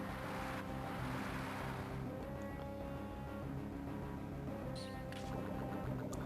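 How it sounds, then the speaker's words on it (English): Water Sport move effect in the Pokémon Emerald battle, a continuous rushing, splashing water wash layered with chiptune battle music, steady and fairly loud throughout. "Psyduck used Water Sport."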